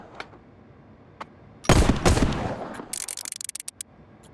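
Rhino revolver shots in the Hard Bullet VR game: one loud blast with a ringing tail, followed by a rapid string of sharp clicks and clacks, heard alone with no talking.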